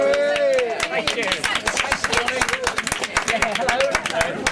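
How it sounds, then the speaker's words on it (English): A small crowd gives a steady round of applause at a pirate radio station's farewell gathering: dense, continuous clapping throughout, with people talking over it. "he needs a round of applause"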